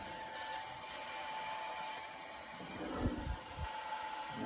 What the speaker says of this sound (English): So this is a paint gun for scraping paint.